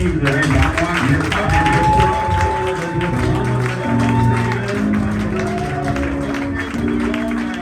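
Church congregation applauding and acclaiming during a service, a dense, steady wash of clapping mixed with voices calling out and sung tones throughout.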